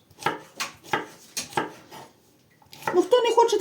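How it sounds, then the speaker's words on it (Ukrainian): A knife chops salad ingredients on a board in a home kitchen in a steady rhythm of close, sharp strikes, followed by dish clatter and a voice. "І зараз ми накришимо, зробимо смачний салат."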